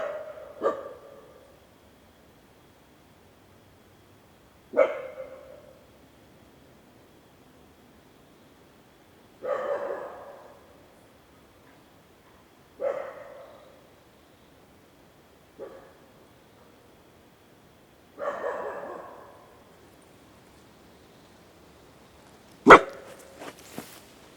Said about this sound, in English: there was also a dog that was just running about and barking, and there's a nice reverb from the dog barking